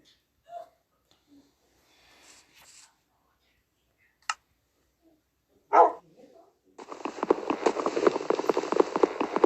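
In the Minecraft video game, a tamed dog gives a few sparse, short barks separated by silence, followed by a dense, steady patter like rain that fills the last few seconds.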